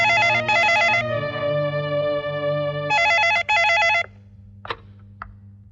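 A telephone rings in two bursts of bright, warbling electronic tones, loud and close, with a held tone in between and silence with faint clicks after.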